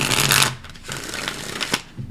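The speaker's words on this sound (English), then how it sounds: "Let's go ahead and give that another shuffle." Tarot cards are shuffled by hand in a loud, riffling burst, followed by quieter scattered flicks and taps of the deck.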